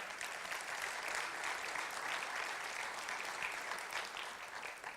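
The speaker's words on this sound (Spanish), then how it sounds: "dele un aplauso, Señor" A church congregation applauds during a sermon, a dense, steady wash of clapping that fills the room at close range for several seconds without pause.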